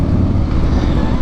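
A 2019 Harley-Davidson Road Glide Special with the 114 engine rumbles loud and close in a deep, continuous idle, with no pauses and no talking.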